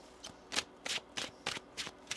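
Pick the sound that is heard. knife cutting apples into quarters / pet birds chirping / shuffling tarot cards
shuffling tarot cards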